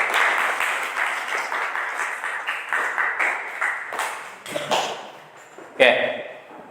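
A group claps at a welding training session, a steady run of applause lasting several seconds before it fades, with one sharp metallic clank near the end.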